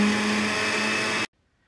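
A kitchen blender whirs steadily, mixing coffee with melted gelatin, a loud continuous motor hum that cuts off abruptly into silence.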